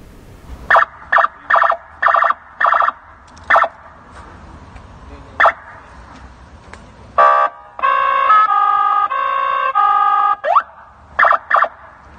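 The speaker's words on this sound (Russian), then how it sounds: "свой БМВ злоумышленники оборудовали звуковыми и световыми спецсигналами" A police-style siren fitted on a robbers' BMW blares in loud bursts: repeated short yelps, then a rapid warbling wail, then more short yelps, with no speech.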